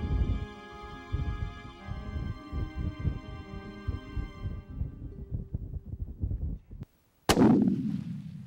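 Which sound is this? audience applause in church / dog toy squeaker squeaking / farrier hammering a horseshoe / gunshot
gunshot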